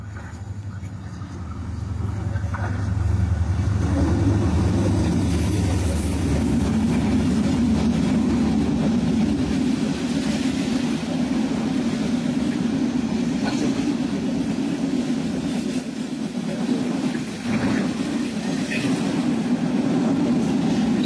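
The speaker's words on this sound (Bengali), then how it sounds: "সামনে থেকে একটি ট্রেন আসছে" An oncoming express train, probably the Dhaka-bound Lalmoni Express, passes on the adjacent line beside a train halted on the loop line at Mohera station, giving a loud sustained rumble and rattle of wheels lasting many seconds.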